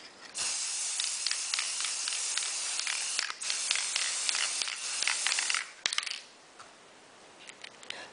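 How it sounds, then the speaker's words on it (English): Spray adhesive hisses from an aerosol can onto the back of a tile in a close, steady burst of about five seconds, with faint clicks and handling noises, followed by quieter rustling. "Now spray the back of the tile with the spray adhesive."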